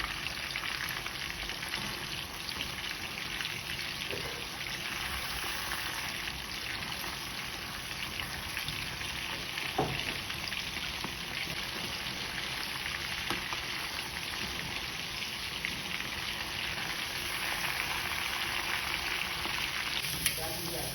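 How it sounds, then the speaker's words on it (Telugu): Pepper prawns sizzle and fry in an iron kadai, a steady close crackling hiss that runs throughout, with a voice speaking over the cooking. "తొందరగా అవుతుంది ఐరన్ కడాయిలో వేయించుకుంటే"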